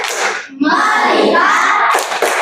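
A class of children doing a patterned rhythmic clap routine, bursts of hand claps broken by short pauses, loud and close, with kids' voices mixed in.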